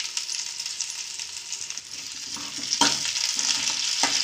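Garlic, slit green chilies and onion fry in a pan with a steady, bright hiss. A few scraping stirs come near the end, and no one speaks.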